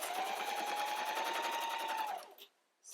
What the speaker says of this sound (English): I'm just going to sew and then stop